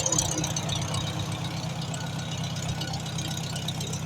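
An old Farmall H tractor engine idling, a steady low knocking chug that keeps an even rhythm throughout, moderately close and fairly quiet, with no talk over it.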